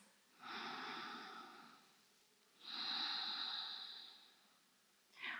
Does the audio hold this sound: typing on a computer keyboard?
no